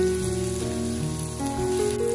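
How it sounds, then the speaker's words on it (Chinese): Minced garlic and chili stir-fried in a hot wok and turned with a spatula, giving a steady, even sizzle that runs unbroken from start to finish with no voices. "接着把蒜末辣椒倒入锅中，用锅铲翻炒，炒出蒜末辣椒的香味"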